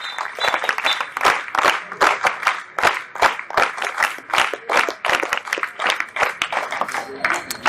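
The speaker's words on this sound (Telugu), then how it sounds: "ఒకసారి చప్పట్లు కొట్టి జేజేలు పలకండి." An audience at a public event applauds with dense, continuous clapping for several seconds, with a few voices mixed in.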